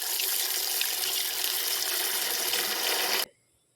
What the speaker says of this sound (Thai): เอาปลาทูสดมาล้างน้ำให้สะอาดก่อนจ้า